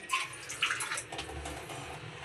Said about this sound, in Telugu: ఇలా కొంచెం వేసుకొని దీంట్లో వాటర్ వేసుకోవాలి